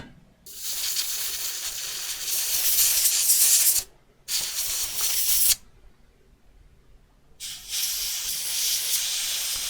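Loud bursts of compressed air hiss in three long blasts with short pauses between, steady and close, blowing moisture off an iPhone 7 circuit board.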